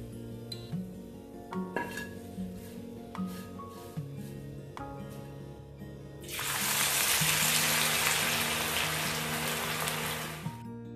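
Onion slices hit hot oil and deep-fry into crispy birista for biryani, bursting into a loud, steady broadband sizzle partway through and holding it to the end, with tonal background music underneath.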